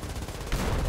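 A short burst of gunfire from a helicopter in War Thunder, a quick muffled rattle of shots that swells loud in the second half of a fraction of a second.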